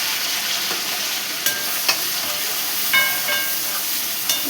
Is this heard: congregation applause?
no